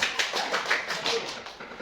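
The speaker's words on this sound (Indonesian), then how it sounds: "tepuk tangan untuk Alia" A classroom breaks into brief applause for a student, a quick, close patter of many hands clapping that lasts under two seconds.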